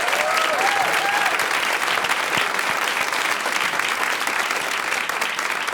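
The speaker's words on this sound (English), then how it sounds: "Was that applause for Max Rose or for Staten Island?" A studio audience applauds a congressman from New York's 11th District, Staten Island, at a live radio show taping: dense, steady clapping from a large crowd that is sustained throughout, with faint whistles near the start.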